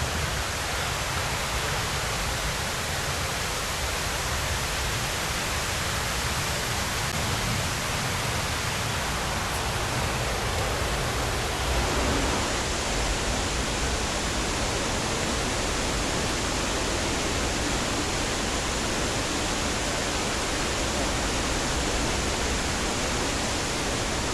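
Tat Huang Waterfall in Thailand, a loud, continuous roar of falling water filling the whole clip as broad steady rushing noise, close and uninterrupted with no voices.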